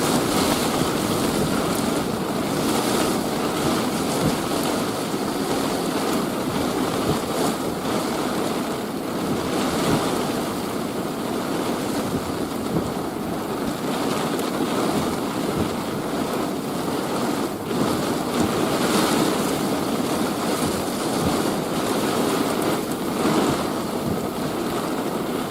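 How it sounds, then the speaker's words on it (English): Strong wind during a storm chase in southeast Nebraska, a continuous loud roar with buffeting gusts rushing across the microphone throughout, no voices. "Here's the wind."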